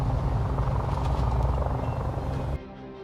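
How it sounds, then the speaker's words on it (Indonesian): A military combat helicopter's steady rotor thump and engine drone fill the air loudly, then cut off abruptly near the end. "helikopter tempur yang terbang"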